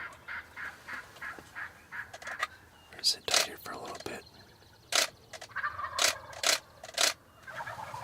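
Wild turkey toms gobble in loud, rattling bursts during a spring hunt, some near and some farther off, with someone speaking quietly between the calls.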